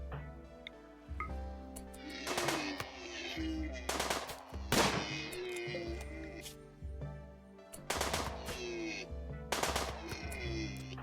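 Gunfire in the video game RimWorld comes as bursts of sharp cracking shots in bunches at irregular gaps. Tonal game sounds hum underneath, and the shooting stays at a moderate level.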